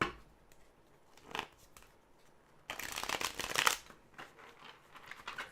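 A deck of tarot-style psychic reading cards being shuffled by hand, soft riffles first, then a longer, louder burst of rapid card flicking up close, with no talking.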